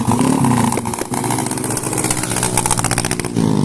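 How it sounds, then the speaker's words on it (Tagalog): Motorcycle with a loud muffler revving nearby in a street in San Luis, Pampanga, a loud, rough engine roar that rises and falls in pitch with a brief dip in the middle. "Kaya palakasan sila ng muffler ng motor."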